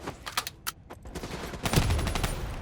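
Gunfire in the futuristic shooter Call of Duty: Black Ops 3: a few sharp separate shots, then a dense sustained burst of rapid fire that grows louder and continues to the end.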